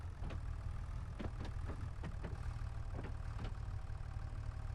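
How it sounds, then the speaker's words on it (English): A tractor engine idles in the Farming Simulator 25 video game, a steady low rumble throughout with a few faint clanks over it. "we just drive round there in our new old tractor."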